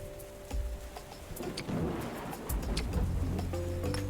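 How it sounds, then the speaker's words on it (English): A thunderstorm with heavy rain in the video game Oceaneers: dense rainfall hisses throughout while low thunder rumbles swell and roll repeatedly, with sharp cracks and drips on top and a faint tonal game hum at the edges. "So I touched the command console and a thunderstorm happened."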